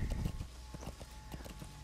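Horse hooves clip-clop in the video game Metal Gear Solid V: The Phantom Pain, a quick run of close, evenly spaced thuds at a trotting rhythm, with no speech over them.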